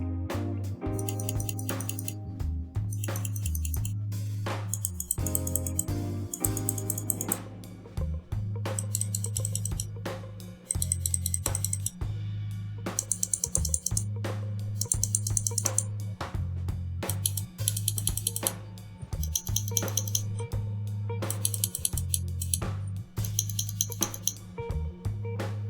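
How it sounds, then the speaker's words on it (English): Mionix Avior 7000 ambidextrous gaming mouse buttons and scroll wheel clicked over and over, a steady stream of crisp close-up clicks and rapid ratcheting wheel ticks with a low hum beneath, no talking. "Here is a sound test of the buttons and the scroll wheel."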